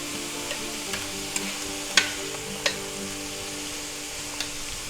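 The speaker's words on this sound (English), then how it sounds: "Stir that around." Butter and mushrooms sizzle steadily in a pan while a utensil stirs them, giving scattered light clicks and scrapes over the continuous frying hiss.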